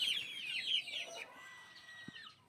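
Chicks in a scratch pen give a burst of high, strained chirps and clucks, loud at first and then fading into quieter calls, with a soft thump near the end.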